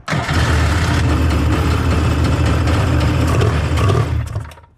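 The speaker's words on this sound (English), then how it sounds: "now it's pulling fuel and starting up on its own" A Kawasaki SXR 800 jet ski engine, carburetors fed with fuel, catches and runs on its own, a loud steady mid-pitched roar that holds for about four seconds, then cuts off abruptly.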